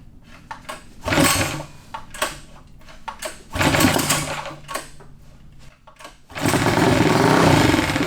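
Air compressor in a workshop during a Tillotson 236cc racing mini bike engine build, loud bursts of hissing air interleaved with clattering handling noises, close by.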